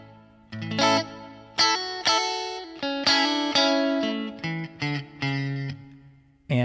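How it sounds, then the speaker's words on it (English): Electric guitar notes and chords through a Fender Mustang GTX hall reverb ring out spaciously, each strummed phrase trailing into a lingering wash of echo. "Let's turn on that hall reverb on the 4th pedal."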